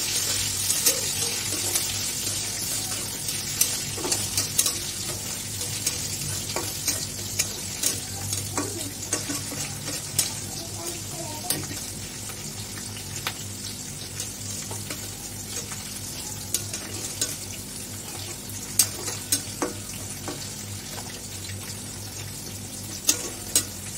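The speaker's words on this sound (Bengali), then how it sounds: "পেঁয়াজ কুচিটা, পেঁয়াজ করে দিচ্ছি, আপনাদের একটু ভালো করে লাল করে নেব" Chopped onions frying in a pan until browned: a continuous close sizzle with frequent spoon scrapes and taps against the pan as they are stirred, alone without talk.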